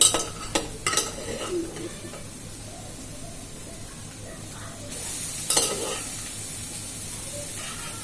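Curry being sautéed in a pan, a soft steady sizzle with a few sharp utensil scrapes at the start and a brief louder burst of frying near the middle, with faint talk in places.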